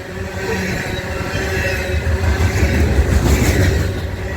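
Loaded northbound coal train rolling through Abbeville with distributed power units, a steady loud low rumble and rolling roar that builds slightly toward the end.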